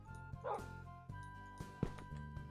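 A dog barks in a video game, a few short yips and woofs over a steady game soundtrack with sustained tones, fairly quiet and close.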